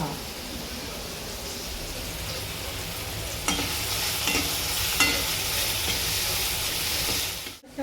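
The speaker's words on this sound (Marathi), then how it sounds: "चांगलं नरम पडसवर टमाटर परतून घ्यायचं" Tomatoes sauté in a pan until soft, giving a steady close sizzle and frying hiss with a few soft stirring scrapes midway, with no talking.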